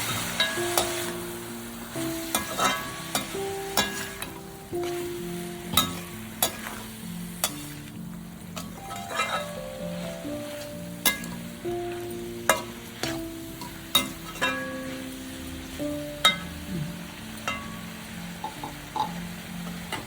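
Bitter gourd frying with ground fennel and coconut is stirred in a pan, a spoon scraping in a steady uneven rhythm of clinks and knocks over a continuous soft sizzle, close and clear with no talking.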